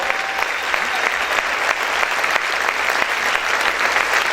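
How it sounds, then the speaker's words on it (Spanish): A church congregation claps loudly and steadily throughout, a dense, continuous wall of applause with a few sharper claps standing out, no voices heard above it. "Aplaude fuerte a tu Dios."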